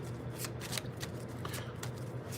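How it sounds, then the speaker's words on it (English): Tarot cards are shuffled by hand in a few quick riffling bursts, close and soft, against a quiet background hum with no talking. "One more shuffle."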